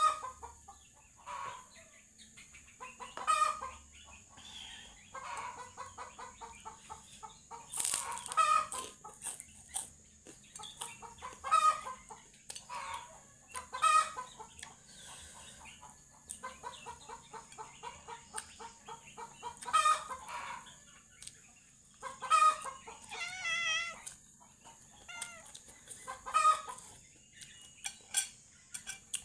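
Chickens and a rooster outdoors, repeated clucking calls and crowing bursts at a steady pace through the whole stretch, fairly close, with a faint clink of dishes now and then.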